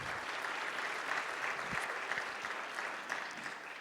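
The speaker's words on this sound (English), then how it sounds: "let's welcome him with some applause" A church congregation welcomes a preacher with full, steady applause from many hands, heard at a moderate distance and fading slightly toward the end.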